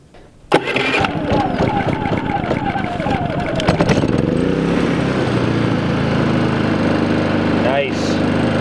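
A Predator 3500 inverter generator catches with a sudden burst and settles straight into a loud, steady running drone close by, its pitch wavering slightly as it stabilizes.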